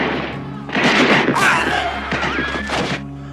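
Several sharp gunshots crack in quick succession from around a house in a comedic cowboy film, loud bursts with ringing tails and a low constant hum beneath.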